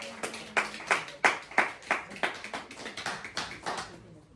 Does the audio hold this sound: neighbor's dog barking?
no